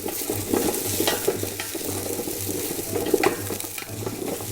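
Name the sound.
onions sizzling in a hot pan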